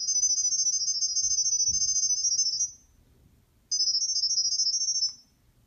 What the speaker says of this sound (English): That loud sound is your connection sound